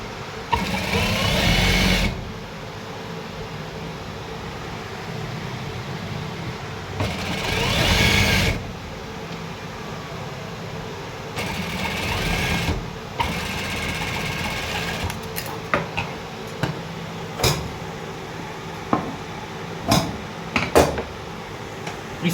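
Sewing machine stitching along folded lining fabric, heard close in several short loud bursts separated by quieter handling noises, then a series of clicks and taps toward the end.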